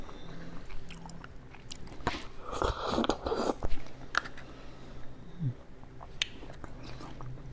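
Soft young coconut meat is chewed close to the mic, with wet, squishy bites and quiet mouth sounds that swell in the middle and then taper off to faint chewing; no speech.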